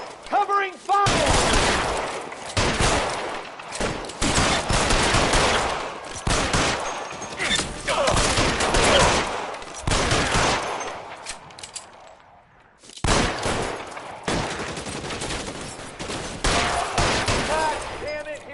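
Dense gunfire from L.A. Noire: loud, near volleys of rapid shots crackle almost continuously, with a short lull before another burst erupts.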